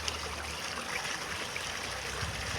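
Water is poured from tins onto the ground to wet it, a steady broadband splash and trickle running continuously throughout without a break, with no voices.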